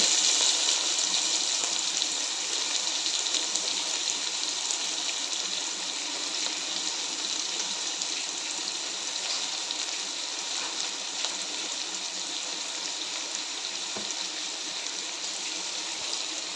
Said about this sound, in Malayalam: നല്ല ചൂടുള്ള എണ്ണ തന്നെയായിരുന്നു അപ്പം നമുക്ക് ഒരു ഒന്നര സബോള ഞാൻ കനം കുറച്ച് അരിഞ്ഞെടുത്തിട്ടുണ്ട് അത് ഞാൻ ഒഴിച്ചു കൊടുക്കുന്നുണ്ട്